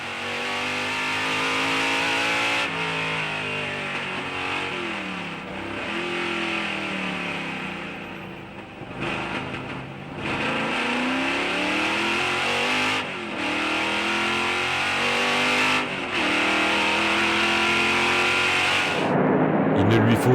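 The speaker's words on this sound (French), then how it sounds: "voitures qui vont en découdre sur une course de 2 heures" Vintage race cars at the Spa-Classic accelerate hard, engines rising and falling through gear changes in repeated surging sweeps, loud and close.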